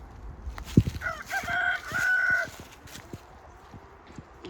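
A rooster crows once, loud and close, a drawn-out cock-a-doodle-doo standing alone over a quiet poultry farmyard background.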